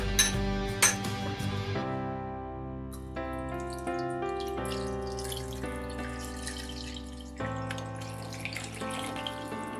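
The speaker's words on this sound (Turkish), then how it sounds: "şöyle bir salçanın suyunu gezdireyim." Tomato paste water is poured over stuffed peppers in a pan, a close, steady trickle and splash with rising ringing tones as the liquid fills, ending in a few clinks.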